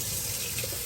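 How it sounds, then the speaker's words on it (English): Running water pouring steadily from a tap while a pet water fountain is assembled, a close, continuous splashing rush with no talking. "I think we can turn the water off now"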